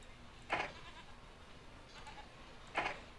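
Sheep bleating at a sheep farm in the Railroad Tycoon II video game, two short bleats about two seconds apart, the first near 0.5 s and the second near 2.8 s, moderately loud over a quiet background with no talking.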